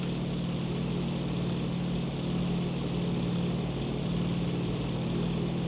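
A damaged propeller plane engine drones steadily in the IL-2 flight simulator game, a continuous low rumbling hum with no voices.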